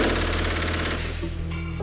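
An assault rifle fires in a rapid burst during an armed robbery in Campinas, São Paulo, rattling shots in quick succession, loud and close, before cutting off and leaving a faint ringing tone.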